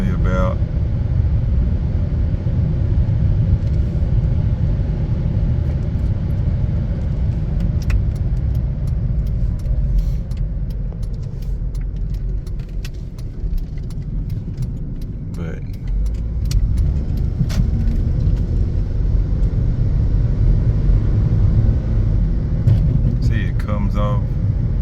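A Honda car with VTEC driving on the road, its steady engine and road rumble continuous throughout, with faint jingling keys and people talking over it.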